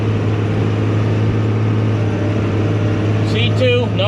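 A tractor engine running at full throttle with the PTO engaged, a loud steady low drone with a constant hum, and a brief voice near the end.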